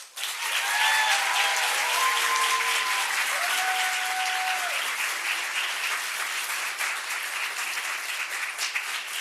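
Sustained audience applause for graduates at a Hauenstein Center event, steady and full from start to finish with a few brief tonal sounds over it early on.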